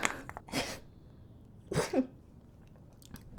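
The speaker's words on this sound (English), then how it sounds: "It does cause me to sneeze quite a bit." A close sneeze breaks the quiet, followed moments later by a second sharp sneeze with a brief throaty tail, then soft room noise.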